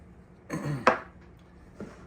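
Spoon working dry biscuit ingredients of flour, sugar and salt together in a bowl, a few short clinks and scrapes against the bowl, close and fairly quiet, with no talking.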